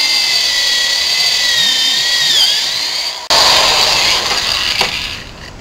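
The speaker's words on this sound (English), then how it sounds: "The center line holes are drilled." Power drill boring holes in scrap wood, a loud, sustained whine that dips as the bit bites, cuts out briefly, then resumes for another steady burst up close.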